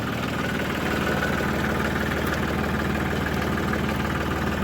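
A 1990 Eagle Talon TSi engine runs steadily after 18 years unused, with a continuous low rumble and a rough, slightly knocking idle held at an even level throughout, no voices.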